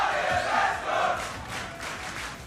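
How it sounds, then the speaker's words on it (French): An esports crowd at a Super Smash Bros. Ultimate tournament cheering and chanting loudly in surges, a dense roar that swells and eases. "Et vous l'entendez, la foule forcément qui encourage Mescol face à Siski."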